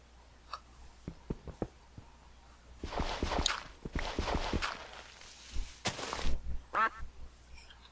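Duck quacks from the Minecraft video game, a few short quacks and some thudding footstep-like game sounds, fairly close and without speech.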